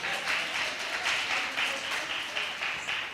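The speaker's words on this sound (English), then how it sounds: "let's give a round of applause" Applause from an audience at a career talk event, a steady wash of many hands clapping with even, pulsing swells throughout.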